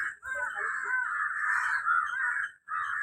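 Crows caw near a house, one long harsh drawn-out call followed by the start of another, moderately close and fairly faint.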